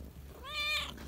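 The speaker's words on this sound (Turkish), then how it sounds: "bunlar çok miyavlıyorlar zaten meraklılar" Kittens about one and a half to two months old give a single clear meow, a drawn-out harmonic cry rising and falling near the microphone over a quiet background.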